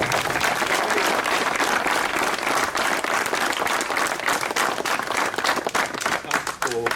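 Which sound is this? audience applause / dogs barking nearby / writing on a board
audience applause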